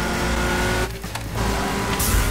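A car roars along in the video game 007 NightFire, its loud engine drone running throughout with a brief dip in the middle and a swelling rush at the end.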